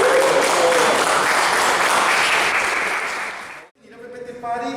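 Crowd applause at the second PPT Party, a slide-presentation party at Hyper Island, loud and sustained for over three seconds before breaking off, followed by faint voices.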